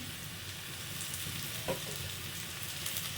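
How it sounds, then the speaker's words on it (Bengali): Onion and garlic fry together in a pan, giving a continuous close sizzle with a small stirring clink partway through and no voices. "এক মিনিট মতো রসুনটা ভেজে নেব পেঁয়াজের সঙ্গে।"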